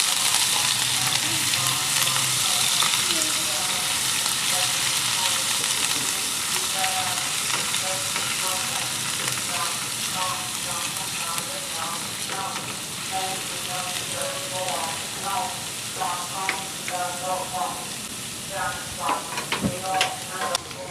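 Finely crushed garlic and ginger fry in hot oil for beef boti, giving a loud, steady sizzle with scattered clicks and scrapes from stirring throughout.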